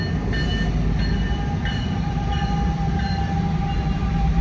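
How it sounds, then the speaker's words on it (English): A train rolling past steadily and loud, its continuous rumble carrying a few faint metallic squeals and tonal screeches from the wheels, with no talking. "Train."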